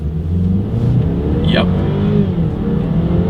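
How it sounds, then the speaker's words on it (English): A BMW X3 30i in sport mode accelerates from 0 to 60 with a steady engine hum heard from inside the cabin, one quick gear-change sweep partway through, and a short spoken word. "here's that 0 to 60 run in sport driving mode"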